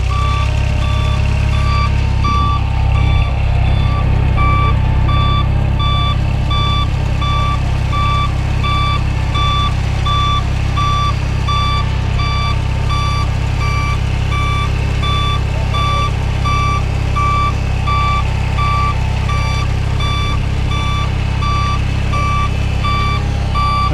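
A forklift's reversing alarm beeps steadily and repeatedly over a loud, constant engine rumble as the vehicle is parked, the evenly spaced tones continuing without break throughout.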